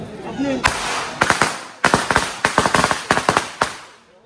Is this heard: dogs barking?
no